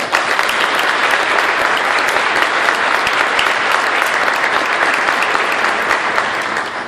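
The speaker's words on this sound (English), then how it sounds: "give Ambassador Spratman a round of applause" Loud sustained audience applause after an ambassador is introduced at a speech, a thick even wash of many hands clapping without a break from start to finish.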